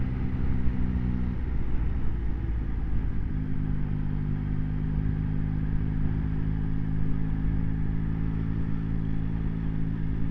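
Yamaha XSR900 motorcycle ridden on the road, its engine droning steadily and loud throughout with a slight pitch shift partway, alongside constant wind rumble and no talk.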